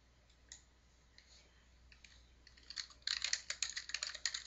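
Computer keyboard typing into a Windows command line: faint scattered key clicks at first, then a quick, louder burst of rapid keystrokes near the end, heard alone without talk.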